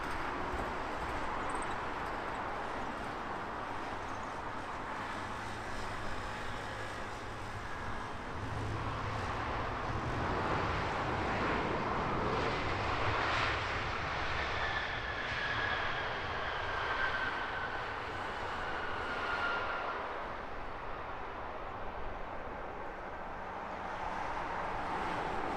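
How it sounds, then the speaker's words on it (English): Eurowings airliner touching down on runway 27 on the north side of Heathrow, a long distant rumbling jet roar swelling and fading, with wind noise and a whine in the middle. "Eurowings touching down on 27 right here on the north side at Heathrow."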